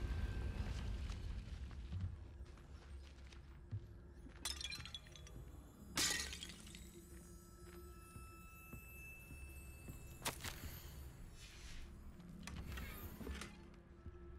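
Confringo blasting spell cast in Hogwarts Legacy, heard as sharp bursts with a glassy shattering crack over a low rumbling game soundtrack, fairly faint overall with a few louder impacts spread across the stretch.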